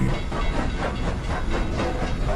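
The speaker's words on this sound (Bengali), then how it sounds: "ট্রেন ছেড়ে দিল।" A train rumbles steadily with a rhythmic clatter of wheels and a broad hissing roar, close and continuous.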